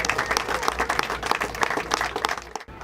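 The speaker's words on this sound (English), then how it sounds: "Let's give a round of applause for Peggy." Crowd applause at an outdoor Walk of Western Stars ceremony, many hands clapping steadily and fairly close, a continuous patter that thins briefly near the end.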